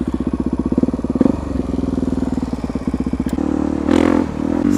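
A motorcycle engine cranks with rapid pulsing, catches and settles into a steady idle, then revs briefly; loud and close.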